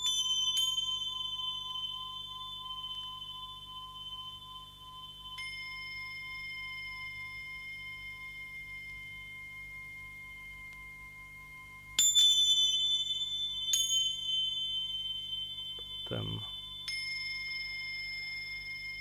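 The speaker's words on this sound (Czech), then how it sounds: "sample jsou jenom ty zvonky. Takový tibetský mísy jsou to ve skutečnosti." Tibetan singing bowl tones used as a sample in a music track ring out in clear, sustained bell-like strikes, several overlapping and slowly decaying, with a lone low thump near the end.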